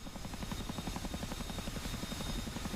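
Steady, rapid thudding of helicopter rotor and engine noise, loud and continuous throughout with no voices.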